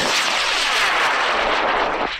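High power rocket launch, a loud sustained roaring burn with harsh crackling texture, close and continuous, fading slightly at the end, with no talk.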